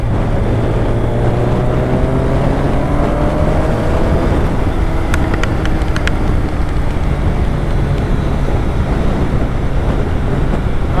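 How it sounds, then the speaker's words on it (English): A Kawasaki ZZR 1100 inline-four motorcycle running, a loud low steady engine drone with rising and falling tonal sweeps, heavy wind rush over it and a few brief clicks, continuous and close throughout. "I just can't stop loving the sound of this bike, you know. An inline 4 is a magical thing"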